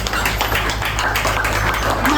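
Audience applause at the inauguration ceremony of the Bym125 hotel, a steady wash of clapping from a crowd held evenly throughout with a low hum underneath.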